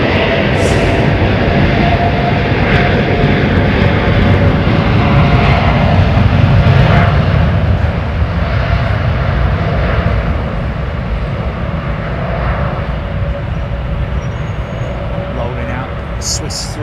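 A Swiss Airlines Airbus A320neo taking off at Heathrow, its jet engines giving a loud, sustained roar that swells and then slowly eases, with someone talking over it.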